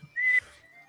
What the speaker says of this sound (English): And probably my poor whistling.